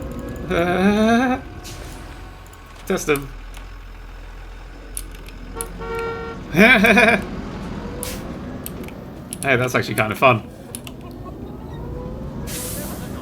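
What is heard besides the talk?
buses honking and braking in the video game CyberPark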